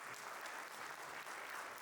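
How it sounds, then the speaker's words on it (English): Steady applause from an audience at the end of a conference session, even and continuous throughout, without a break. "Let's have a round of applause."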